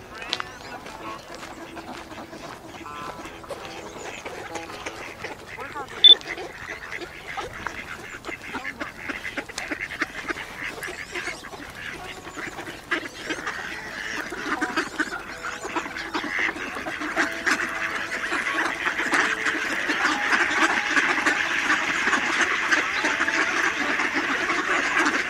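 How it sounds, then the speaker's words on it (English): A crowd of ducks quacks steadily and densely throughout, the chorus building and getting fuller in the second half. "Lots of duckies."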